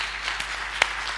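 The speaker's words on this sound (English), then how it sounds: "Let's give Jesus a big hand clap today." A church congregation claps its hands after a sermon, a soft blurred patter of hands under room noise, with a few louder individual claps standing out near the end.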